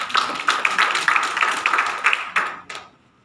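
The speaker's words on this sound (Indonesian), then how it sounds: "silakan tepuk tangan dulu boleh." Audience at a digital literacy week event in the Doberay customary region claps for about two and a half seconds, a dense burst of hand claps that thins out and stops, with no talk over it.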